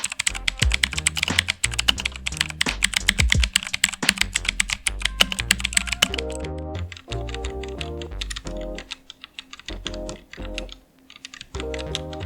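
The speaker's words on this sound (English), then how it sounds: "one thing we did notice is how quiet the keyboard was when comparing with other keyboards like the Komora" Keys clatter on a keyboard compared with other keyboards, starting as a loud, busy rattle, then shifting to a softer, quieter stream of keystrokes with deeper thocking tones and brief pauses.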